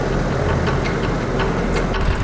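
Tractor engine running steadily at a constant idle-like pace during a heavy-duty PTO trailer load test, with faint ticking and knocking on top of a continuous low rumble. No one speaks.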